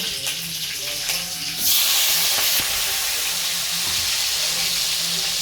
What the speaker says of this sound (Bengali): এরপরে ফোড়নটা ভালো করে ভাজতে থাকবে।